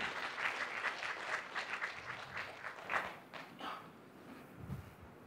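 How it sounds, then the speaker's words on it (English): Scattered, faint applause for a volunteer at a launch event, a few hands clapping unevenly and tapering off toward the end. "Let's give him another big round of applause as well."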